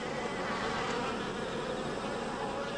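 A thick, unbroken buzz of many wasps hovers close by, holding steady and even for the whole stretch with no voices over it.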